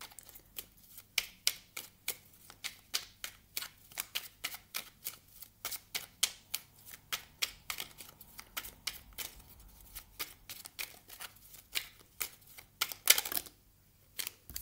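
Tarot cards are shuffled and drawn in a quiet room, making a long run of soft, crisp flicks and snaps at an uneven quick rhythm, close and fairly faint.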